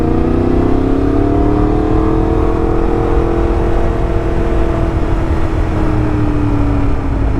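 Loud, steady engine drone and rushing wind recorded while riding a motorcycle through traffic, with tones shifting slowly as vehicles pass close by over several seconds.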